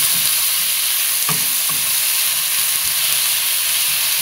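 Pieces of lamb meat fry and get stirred in a pot for a lamb soup, giving a loud, steady sizzle with a few brief scraping stirs.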